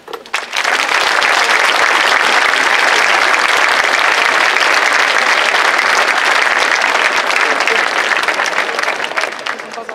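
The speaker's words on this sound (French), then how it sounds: "nous voulions les encourager avec des applaudissements" Sustained applause from an audience at a school graduation ceremony, loud dense clapping lasting throughout and tapering slightly at the end.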